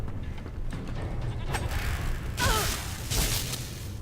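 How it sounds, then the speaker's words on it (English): A sheep in the video game Divinity: Original Sin II bleats in a couple of short wavering calls over a low rumbling game ambience with whooshes. "What is this sheep actually coming for me? The sheep is classed as an enemy."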